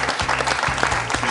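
Studio audience clapping on a French television quiz show, a loud burst of applause with a few sharper claps standing out, short and continuous.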